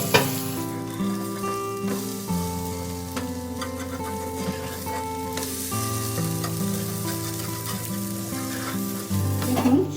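Stuffed brinjals fry in a pan with a loud, continuous sizzle and crackle, while steady tonal background music plays underneath.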